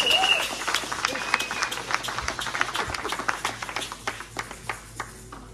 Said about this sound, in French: Est-ce qu'on peut acclamer la parole de Dieu?